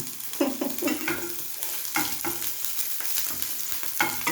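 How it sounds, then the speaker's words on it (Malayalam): Ginger, garlic and green chili sauté in hot coconut oil in a pan, a constant sizzle broken by repeated scraping stirs of a spoon against the metal, close and alone without talk. "വെളുത്തുള്ളി പച്ചമുളക് ഇത് മൂന്നും ചേർത്ത് നന്നായി വഴറ്റുക"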